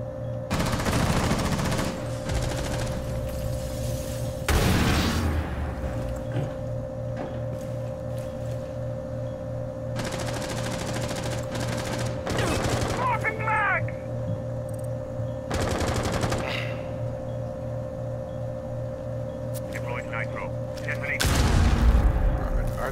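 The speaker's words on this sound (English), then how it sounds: "They're shooting through the skylight." Gunfire crackles through a skylight in a Rainbow Six Siege match on the Kafe Dostoyevsky map, with repeated bursts of automatic fire and sharp shots in clusters, some loud and close, some fainter, while players talk over the game.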